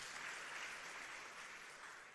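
A crowd applauding inside the church at ACK Emmanuel Parish during a service attended by President Ruto, steady dense clapping heard at a distance and fairly faint.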